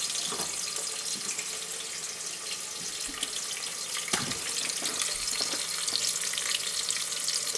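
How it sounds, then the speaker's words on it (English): Onions fry in hot oil for a mutton biryani, with a constant hiss and scattered sharp pops and crackles of splattering and an occasional utensil knock, all fairly close and without talk. "we're gonna add the onions, and be careful on this part, it might splatter"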